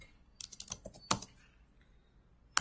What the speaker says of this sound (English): Then I'm just typing technology